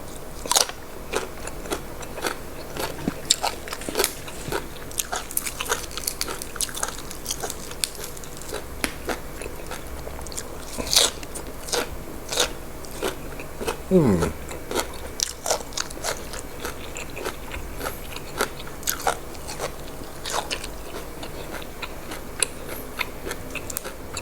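Crunchy grilled pork udder being bitten and chewed, dipped in bitter chili jaew sauce; close, repeated crisp bites and crunches with soft chewing and scraping in between, no talking.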